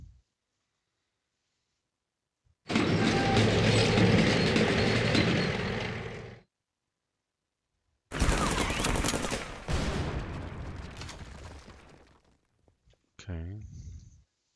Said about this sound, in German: Wir nehmen diesen Panzer rein. Der wird mir jetzt diese Einheit zerstören.